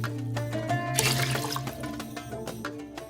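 Water splashes into a rice cooker holding soaked rice and milk mixture, a close, sloshing pour with a brief louder surge, over faint background music.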